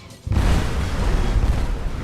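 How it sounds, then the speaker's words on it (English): A loud, sustained explosion in a Skyrim laboratory scene bursts in after a brief quiet moment and rumbles on continuously without letup. "Explosion. Everybody panics and runs out."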